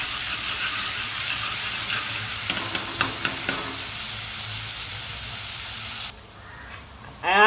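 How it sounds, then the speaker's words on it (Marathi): Ginger, garlic and coriander paste fries in oil in a pan for a chicken dish, a steady close sizzle with a few scraping stirs of a spoon partway through and a brief voice at the end. "अद्रक पेस्ट अशी चांगली परतली"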